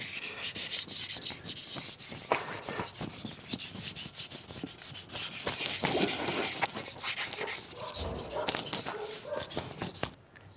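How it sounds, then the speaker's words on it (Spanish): Rapid, rhythmic scratchy strokes of sandpaper on hard epoxy, loud and close, continuing steadily before stopping abruptly at the end. "a medida que voy lijando, va cambiando el sonido de la lija"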